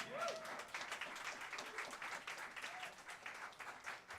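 Audience applause at an acoustic open-stage café night, for a performer just finishing: a steady wash of clapping from a crowd, moderately loud and continuous throughout, with no talk over it.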